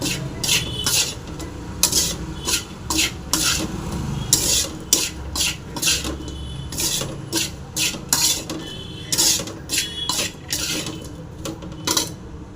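A metal spoon stirs chopped coriander into gambli mass dry fish fry in a pan, with rhythmic close scraping and clinking strokes repeating steadily for over twelve seconds, with no talking.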